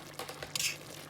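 A fork stirs rice and peas in a cooking pot for Caribbean rice and peas, giving a few soft, irregular scraping and clinking taps up close, with a brief louder scrape near the middle.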